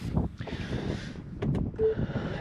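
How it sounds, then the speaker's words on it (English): Gusts of wind buffet the microphone near a parked Tesla Model S, giving low rumbling bursts that rise and fall unevenly over a couple of seconds. "it's windy as well."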